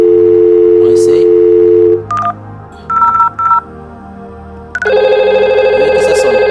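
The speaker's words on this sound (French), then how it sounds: "Donc le téléphone est en train de sonner." A VoIP desk phone dials an internal extension, a steady dial tone giving way to short DTMF keypad beeps, then a loud continuous ringing tone for the final seconds.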